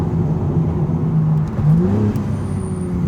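A BMW G80 M3 engine revs at higher RPM, a loud, close, steady mechanical drone that rises briefly in pitch and then settles back.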